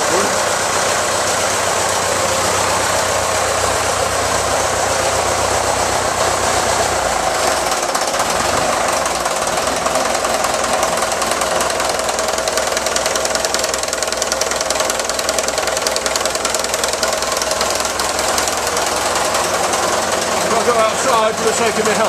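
Fordson Major tractor engine, started for the first time in about a year, running with a steady loud rough diesel clatter throughout and no break.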